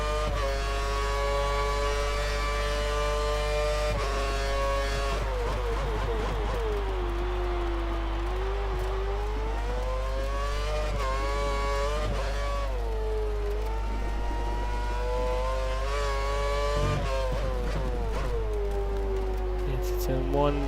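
Lotus Formula 1 car in the F1 2013 racing game, a steady high-pitched engine whine rising and falling through gear changes along a straight at the German circuit, continuous and loud beneath intermittent commentary.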